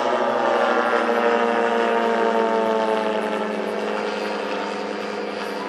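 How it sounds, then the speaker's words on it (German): A loud, steady drone from a large 620cc engine driving the propeller of a 130 kg, 5.3 m scale Bücker Jungmeister RC model airplane holds a constant pitch, close and continuous, easing slightly toward the end. "620 Kubik und treibt einen Propeller an"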